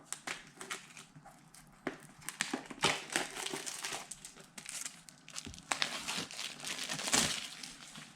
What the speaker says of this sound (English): I'm just gonna quickly cut open the plastic off the box.